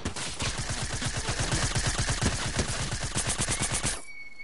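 Rapid automatic gunfire in a Fortnite match, a dense, steady burst of shots rattling close and loud for about four seconds before cutting off abruptly.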